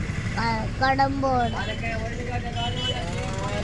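Inside a moving bus heading toward Kadampuzha in Malappuram district: a steady low engine and road rumble fills the cabin while people talk over it.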